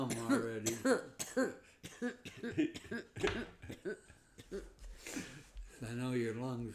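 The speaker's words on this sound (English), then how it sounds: "my nose is running because I keep coughing" A person coughing repeatedly amid talk, harsh bursts mixed with throat clearing and speech, close and fairly loud.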